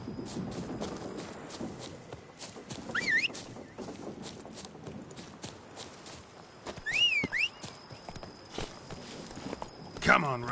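Hooves of Roach, the horse in The Witcher 3, clip-clop in a steady rhythm at close range. Several brief rising whistles and a voice break in now and then.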